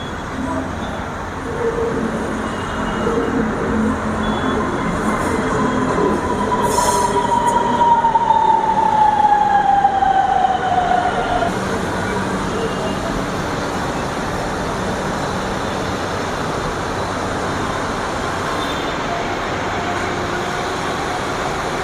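A Delhi-Meerut RRTS rapid rail train running, with a steady, loud rolling rumble throughout and a gliding wheel squeal in the middle stretch before settling back into even travel noise.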